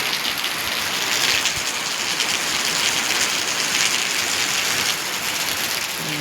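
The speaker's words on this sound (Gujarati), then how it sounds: "અગાશી માથે સૂતા હતા, આવી ગયો વરસાદ." Rain falling on a rooftop terrace in Bhavnagar, a steady dense patter and hiss of drops hitting the surface, close and continuous without pause.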